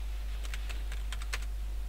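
Fingers tap a computer keyboard while entering text into a spreadsheet, producing a quick irregular run of about nine soft, close keystrokes over a steady low hum, with no voices.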